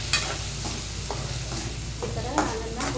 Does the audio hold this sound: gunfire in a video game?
no